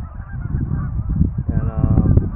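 Several geese honk in a dense, overlapping chorus near flooded standing water from melted snow, steady and fairly loud throughout with no talk.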